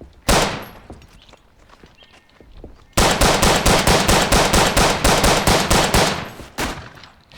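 Gunfire while on the move in the video game Verdun, a single sharp shot followed by a long rapid burst of evenly spaced loud reports, then another lone shot at the end.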